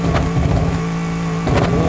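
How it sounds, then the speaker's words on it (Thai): A car engine in the driving game BeamNG.drive hums loudly and steadily, a sustained mid-pitched drone with slight rises, heard alone and close without talk. "ลองเร่งเครื่องกันหน่อยฮะ"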